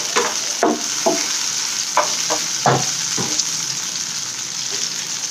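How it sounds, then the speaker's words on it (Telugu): Dried red chillies fry in a pan for radish-leaf chutney under a steady close sizzle, broken by several soft scraping stirs in the first few seconds, then a continuous hiss with no talk. "సో ఇవి కొంచెం వేగాలండి ఎండుమిర్చి అనేది."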